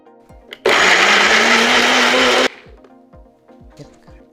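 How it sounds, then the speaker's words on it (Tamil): A mixer grinder blends tomatoes for chicken curry in one loud, steady burst of about two seconds, framed by quieter kitchen clatter before and after. "இப்போ தக்காளியை மிக்சியில் அடிச்சுக்கலாம்."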